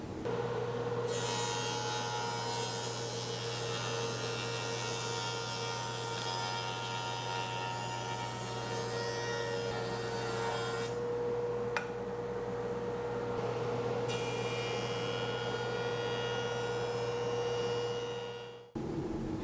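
Delta DJ-20 woodworking jointer runs with dust collection attached, a steady loud mechanical hum and whine with a constant tonal drone, holding even throughout before stopping abruptly near the end.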